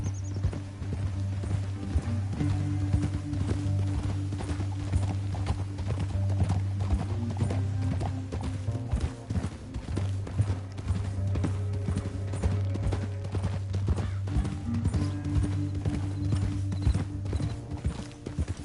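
Horse hooves gallop in a fast, steady clatter over a constant low droning backdrop in the video game Red Dead Redemption 2, continuing without pause and with no voices.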